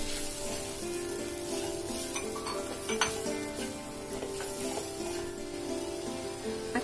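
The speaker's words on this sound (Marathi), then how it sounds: "आता आपल्याला हे सुके मसाले घालून घ्यायचे आहेत। व्यवस्थित परतून घ्यायचे आपल्याला।" Soft tomato and dry spices sauté in a pan for a paneer dum aloo biryani, with a steady hissing sizzle and an occasional clink of a spoon against metal, all under background music.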